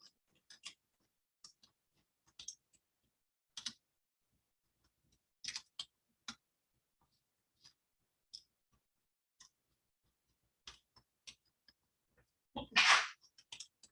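A single short, sharp sneeze bursts out near the end, following a stretch of quiet clicks and soft taps.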